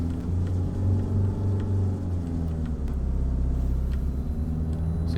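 Low, steady engine rumble of a car driving in a GTA video game, a constant droning hum with slight shifts in pitch, close and continuous throughout with no talking.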